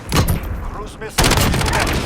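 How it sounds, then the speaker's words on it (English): A cruise missile strike lands in a Call of Duty Modern Warfare Domination match. Gunfire crackles at first, then a sudden loud, heavy blast hits just past the midpoint and sustains a roaring rumble to the end. "Cruise missile."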